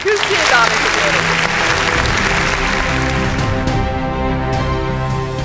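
An audience at an automotive retail congress applauds to welcome a speaker to the podium, loud continuous clapping over steady background music, holding evenly throughout.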